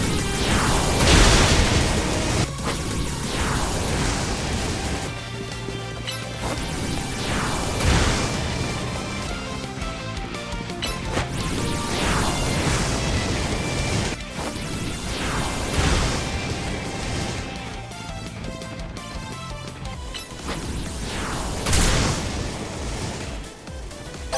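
Beam attack moves in Pokemon Legends Z-A: loud, continuous battle effects with repeated booming bursts and crashing impacts every few seconds, layered over a busy game soundtrack with no speech.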